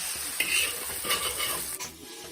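Egg and noodles stir-fried together for pad thai in a hot pan, with scraping stirs and a steady light sizzle over about two seconds, no voices.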